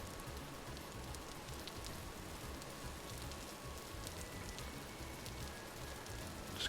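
Rain falls in the video game Vintage Story, a faint, steady patter of drops on surfaces with scattered soft ticks, continuous and without speech.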